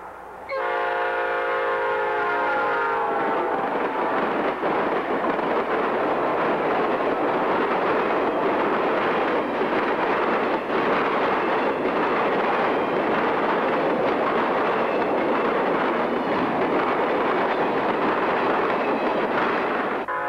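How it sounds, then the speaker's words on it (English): Three Southern GP50 diesel locomotives run northbound at Crawford, Florida. A horn blast opens, then the loud, steady roar and rumble of the passing train fills the rest, with no talking. "A trio of Southern GP 50s northbound at Crawford"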